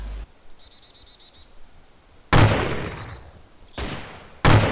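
Three loud, sharp gunshots in the survival video game DayZ, each a close broadband crack with a decaying tail, spaced about a second apart after a quiet stretch with faint ambient chirps.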